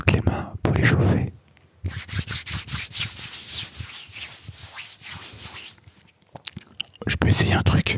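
Hands rubbing briskly together to warm them before a massage, a close, steady broadband friction hiss lasting several seconds, bracketed by louder handling noises at the start and end.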